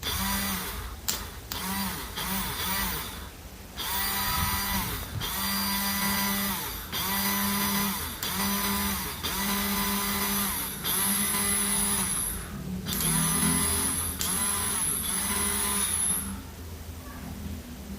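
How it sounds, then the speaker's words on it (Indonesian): A car starter motor cranks hard in repeated bursts after a dropped battery is repaired, each whirring run broken by short pauses, loud and close with a high whine in later attempts. "setelah itu kita coba menggunakan dinamo starter, dan hasilnya pun kencang sekali ya teman."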